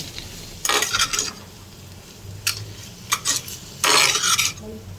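Spatula stirring pointed gourd with red chilli powder, coriander powder and sugar in a pan, heard as several close scraping, sizzling bursts separated by quieter gaps, with no talking.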